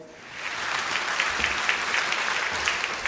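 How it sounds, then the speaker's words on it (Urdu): Steady studio applause for a contestant on a Ramadan quiz show, a dense even patter of clapping that swells after a soft start and holds for about three seconds with no talking. "میں چاہوں گا کہ پارٹیسپینٹ اے کے لیے تالیاں بجایا جائے."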